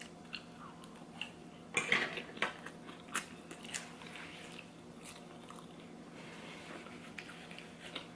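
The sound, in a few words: biting and chewing crispy vegan animal style fries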